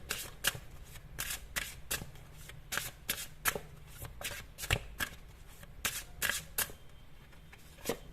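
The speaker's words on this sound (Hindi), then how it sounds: "और कार्ड्स देखते हैं, सारे एक साथ ही मैं निकालती हूँ" Tarot cards being shuffled and drawn, a run of quick crisp riffling snaps and flicks in irregular bursts, close and fairly quiet, with no talking over them.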